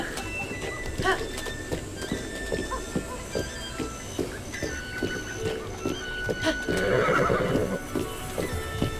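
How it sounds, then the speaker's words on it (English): Horse in the Breath of the Wild video game whinnying and neighing near the middle and end, with clip-clop hoofbeats tapping irregularly throughout inside a village, fairly close and moderately loud. "Horse doesn't want to run inside the village"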